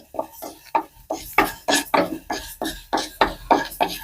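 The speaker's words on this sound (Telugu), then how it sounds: "మెంతులు వేసుకోవాలా ఇప్పుడు దీన్ని కొంచెం వేగనిద్దామండి లైట్గా వేయించుకుంటే చాలు" Fenugreek seeds being lightly roasted in a pan for mango pickle make a quick, regular run of scraping, rattling stirring strokes, about three per second, close up and with no talk.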